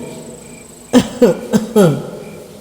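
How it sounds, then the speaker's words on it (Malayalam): Four short, throaty coughs in quick succession, close and fairly loud, with quiet room tone before and after. "പിന്നിൽ നിന്ന് ആരോ ചുമക്കുന്ന പോലെ തോന്നിയതും"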